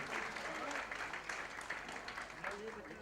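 A celebrity crowd at a Padma Shri award celebration applauds for a singer, fairly faint clapping mixed with overlapping voices and chatter.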